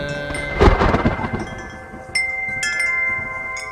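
Thunder rumbles with a loud crack early on, over a bed of steady rain, in a film sound effect from a Bangladeshi Eid telefilm; later gentler rumbles roll on beneath the rainfall.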